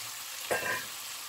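Potatoes drop into a frying pan of chicken gizzard fricassee, a brief soft thud and rising sizzle over a steady low frying hiss, close and alone.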